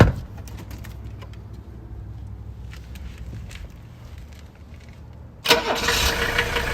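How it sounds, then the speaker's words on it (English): A 1983 Mercedes-Benz 300SD with the OM617 diesel cranks with a low churning grind for several seconds, then catches abruptly and settles into a loud, rough, clattering idle. "we'll start the vehicle up"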